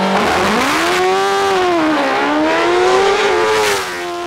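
A Bill Chaplin-built Force race car on a hillclimb run at Shelsley Walsh, engine screaming loud and close as it revs up and down through gear changes, with a rising and falling pitch before it fades slightly at the end.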